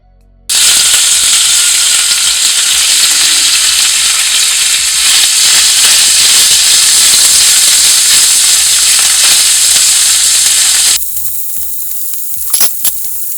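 Beef dropped into hot melted ghee with rosemary bursts into a loud, close, continuous sizzle lasting about ten seconds, then cuts to quieter kitchen noise with a couple of small clicks.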